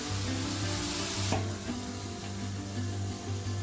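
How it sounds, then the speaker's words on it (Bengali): Onion, tomato-chilli paste and ginger-garlic paste fry in a pan with a dense, steady sizzle, broken by a single soft scrape of a spoon partway through, close and continuous throughout. "আদা রসুন বাটা দিয়ে ভালো করে কষিয়ে তারপরে সমস্ত গুঁড়ো মশলাগুলো দিয়ে দেবো"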